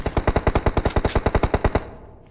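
A rapid burst of automatic gunfire in a shooter video game: roughly twenty evenly spaced, loud shots in quick succession, then the firing stops and fades out.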